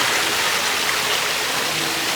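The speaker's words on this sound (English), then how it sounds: "I really like this little water fountain area" Continuous splashing hiss of a water fountain in the jazz area of Disney's All Star Music Resort, steady and fairly loud with no voices.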